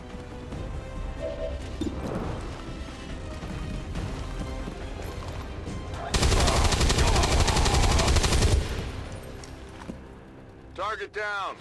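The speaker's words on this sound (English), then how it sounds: "Let's go right up to him and fucking plug him from 2 feet away with our fucking machine gun" Rapid machine gun bursts in XCOM 2, a sustained loud volley in the middle over game sounds and music, followed by quieter clatter and a short electronic flourish at the end.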